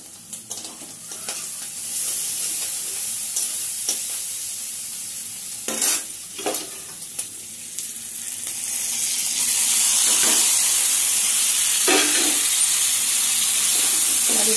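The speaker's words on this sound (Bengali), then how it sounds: "দেখছেন আলু ভাজা বসিয়েছি" Potatoes fry in a pan with a constant close sizzle and hiss that swells louder toward the end, broken by occasional sharp scrapes and taps of a stirring utensil.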